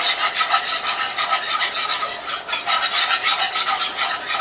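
A dark roux for turkey giblet gravy stirred in a pot, with a close, loud, continuous rhythmic scraping and rubbing of the utensil going round and round at a steady pace.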